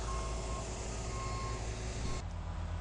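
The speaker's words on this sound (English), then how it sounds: "dump truck being pushed by the paver, and rakers making sure the seam is good" During road paving, a dump truck pushed along by an asphalt paver sounds a steady reversing beep over a low diesel rumble, the beeping stopping near the end.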